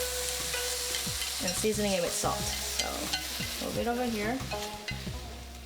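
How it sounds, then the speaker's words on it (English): Chicken strips sizzle steadily while being pan fried and stirred, a constant frying hiss under a person speaking throughout. "For sauteing and pan frying the chicken, it gives a little bit more flavor."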